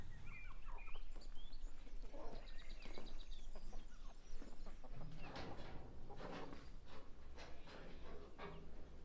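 Chickens cluck and squawk in a mountain village yard, a cluster of hens calling near and at middle distance in irregular bursts, with rustling background and no talk.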